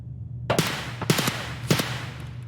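Three short sharp bursts of gunfire from raiders in Escape from Tarkov crack out about half a second apart, fairly loud over a steady low in-game hum, with no talking.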